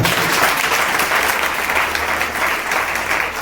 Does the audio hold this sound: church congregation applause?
yes